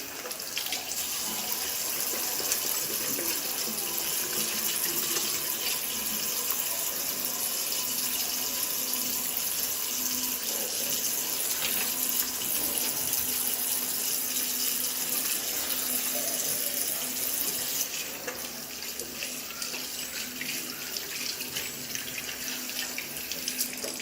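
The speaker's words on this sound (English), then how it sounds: "So I am going to show you how to wash our hands." Water runs steadily from a tap as hands are washed beneath it, a close, continuous splashing hiss lasting the whole stretch with slight changes in tone as the hands move through the stream.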